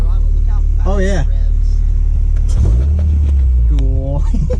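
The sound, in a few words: Honda Prelude engine revving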